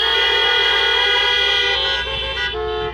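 Many car horns honk together in a loud, sustained chorus at an outdoor political rally in Great Falls, Montana, blending into a continuous blare that wavers slightly near the end.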